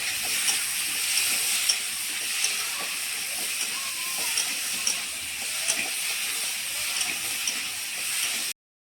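Ginger garlic paste sizzling as it fries in a pan: a steady, loud broadband hiss running unbroken throughout, with faint crackles on top, then cutting off abruptly at the end.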